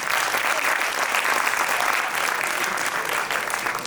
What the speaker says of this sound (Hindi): चलिए एक बार अच्छे से ताली बजाइए